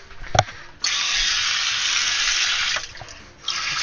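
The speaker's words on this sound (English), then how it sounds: "Put some fresh water in there for it." Tap water runs steadily into a kitchen sink in a near, continuous rushing stream, pausing briefly before flowing again, with no talk over it.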